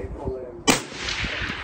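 A rifle fires one sharp, loud shot at a long-range target about 1,000 yards away, set against steady wind noise, with faint talk before it.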